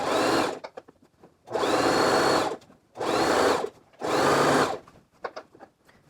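A sewing machine understitches a skirt seam in four separate bursts of steady whirring, each about a second long, with quiet pauses and small handling clicks between them.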